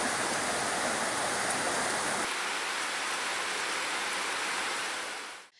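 Heavy rainfall, a dense broadband hiss of falling water that stays steady and loud before abruptly thinning and fading out near the end.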